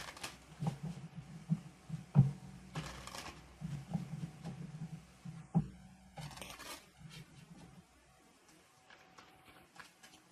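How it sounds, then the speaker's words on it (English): A tarot deck is cut and shuffled in a series of soft riffles and card flutters, with a few sharp taps between them, close and fairly quiet before the sound fades out near the end. "let's cut the deck and let's see what comes up"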